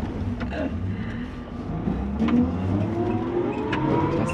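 A car drives off on a road in China, its engine a steady, close rumble that grows slightly louder as it picks up speed.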